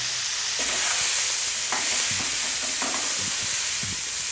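Potato leaf greens fry in hot ghee with a steady, bright sizzle, while a utensil stirs and scrapes through them in four or five separate strokes spaced about a second apart, close up and with no talking.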